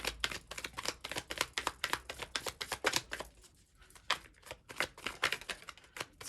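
Tarot cards are shuffled by hand in rapid, close riffling bursts of crisp papery slaps, pausing briefly midway before the quick flicking resumes, with no one talking.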